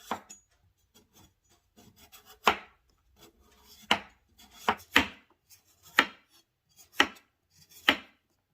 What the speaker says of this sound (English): Just gonna thinly slice this potato.